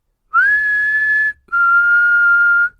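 A human whistle imitating the eerie whistle from a ghost scene in Supernatural season 14, episode 16: two long, steady, clear tones, the first rising briefly before holding and the second slightly lower, with a short gap between them and no talking.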